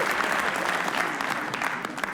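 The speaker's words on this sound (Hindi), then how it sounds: "ताली बजानी पड़ेगी यार" Comedy-show audience clapping to welcome a comedian to the stage, a dense, steady burst of applause with no voices over it.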